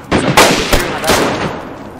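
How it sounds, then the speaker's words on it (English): Several loud, close gunshots ring out in quick succession in a DayZ firefight, each with a reverberant tail that trails off into quiet. "I'm shooting."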